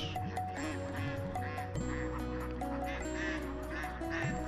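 Ducks on a duck farm quack repeatedly in overlapping bursts, a busy flock close by with constant chatter layered over a steady low hum.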